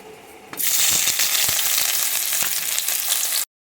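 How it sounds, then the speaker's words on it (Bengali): Onions dropped into hot mustard oil burst into a loud, dense, close sizzle that holds steady for about three seconds before cutting off. "পেঁয়াজটাকে এখন বেরেস্তার আকারে ভেজে তুলে নেব। এখানে সর্ষের তেল দিয়ে দিলাম।"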